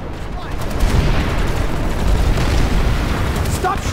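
Dense, continuous gunfire and booming blasts in the online shooter game Planetside 2 fill the whole stretch, a loud unbroken barrage with no pause.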